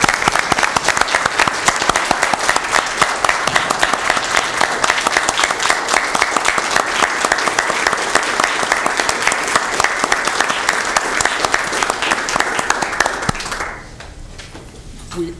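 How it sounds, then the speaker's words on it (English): Standing ovation at a county board of supervisors meeting, loud sustained applause from many hands that holds steady for a long stretch, then abruptly fades out near the end. "We applaud you certainly in standing to applaud"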